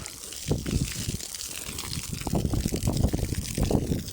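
Water from a hose splashes onto garden plants at night in uneven surging bursts, gushing and spattering close by at moderate volume.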